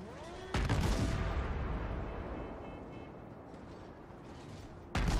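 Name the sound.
warship gunfire in video game World of Warships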